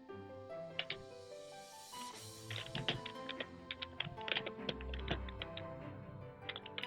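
Someone types code on a computer keyboard while writing a Java program, producing a steady, fairly quiet stream of close keystrokes with irregular rhythm and no talking.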